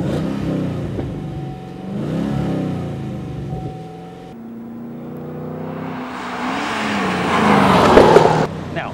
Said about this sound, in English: It's like the car's coming on cam and wah, makes an amazing noise.